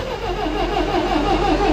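A Wisconsin V465D engine, not fully warm and on choke, cranks over with a steady, close, loud mechanical churn. It keeps turning without catching and no one speaks.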